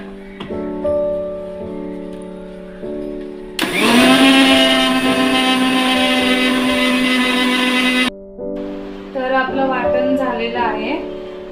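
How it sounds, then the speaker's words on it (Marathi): A kitchen mixer grinder blends tomato and masala paste with water, its motor whining loudly in two bursts, the first long and steady, the second rising and wavering after a short stop, while someone speaks around it. "तर आता मी हे वाटून घेते मिक्सरला"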